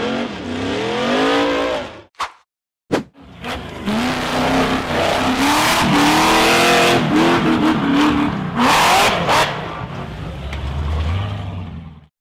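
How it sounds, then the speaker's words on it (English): A dark blue off-road buggy's engine revs hard up a barren, rocky gravel slope, a loud close roar rising and falling through gear changes, with brief cut-outs and sharp bursts of throttle. "The dark blue buggy powered hard up the barren, rocky gravel slope."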